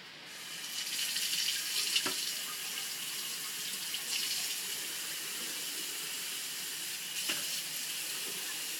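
Warm water running from a tap into a wash basin for a bed bath, a steady hissing rush with a couple of brief clunks, close and alone without speech.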